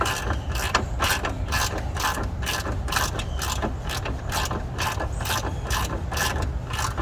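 A ratchet wrench loosening a bolt during a rear suspension lift install on a Jeep Cherokee Trailhawk, clicking in a fast, steady run of close, crisp ratchet strokes with brief pauses between bursts.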